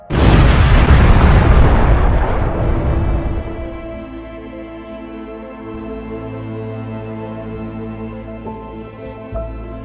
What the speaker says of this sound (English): They created the Big Bang.